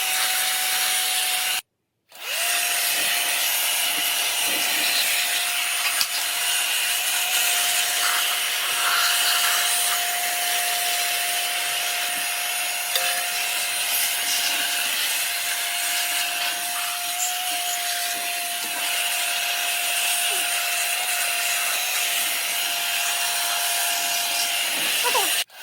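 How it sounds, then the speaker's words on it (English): A long, steady hiss of a dust blower cleaning a sewing machine, with a constant whine, briefly cut off near the start, then running evenly until the end. "Sewer machine cleaning using dust blower."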